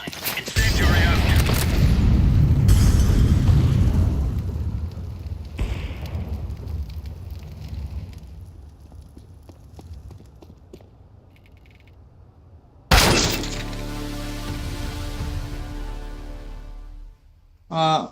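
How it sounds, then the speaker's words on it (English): Grenade throws in a tactical shooter game: a loud burst and hissing smoke release at the start, a sharp bang around the middle, then a crackling incendiary burn that starts abruptly and fades near the end. "Throwing smoke. Throwing flashbang. Incendiary out."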